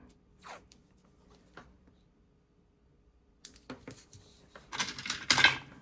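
Scallop-edged washi tape being handled for a planner, with quiet scattered rustles at first, then a burst of close, crisp crinkling and peeling sounds that gets louder toward the end.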